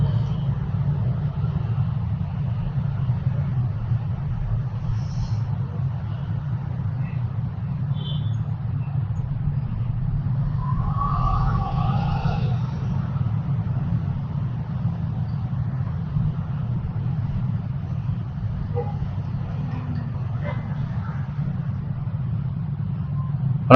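Jammed city traffic on a busy Indonesian road after the Lebaran holiday makes a constant low rumble of idling and creeping cars, buses and motorbikes, with a brief faint horn-like tone midway and no voices.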